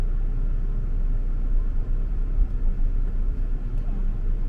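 A car engine rumbles steadily from inside the cabin during a manual-transmission driving lesson, a low continuous hum with slight fluctuation and no clear rise in pitch.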